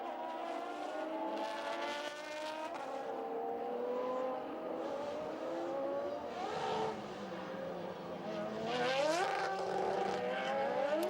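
Formula Renault 3.5 race cars scream around the Barcelona circuit in a 2008 race, engines rising and falling in pitch as several cars pass and accelerate, loud and continuous throughout.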